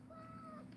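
A mother cat gives a single short, faint meow close by, a thin tonal cry lasting under a second.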